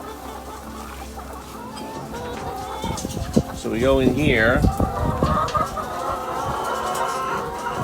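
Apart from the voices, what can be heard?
chickens clucking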